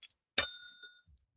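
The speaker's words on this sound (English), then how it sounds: "So he just wanted to use the bell." A bicycle bell gives one bright ding that rings out clearly and fades over about half a second, preceded by a faint light tap.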